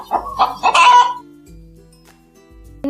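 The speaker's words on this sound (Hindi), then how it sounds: "मुर्गी" Hen clucking in a short burst of several rapid calls at the start, loud and close, then fading to quiet background hum with a faint sound near the end.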